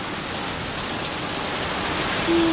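Heavy rain pouring down in Norway, a dense steady hiss close by, ending with a short voice exclamation.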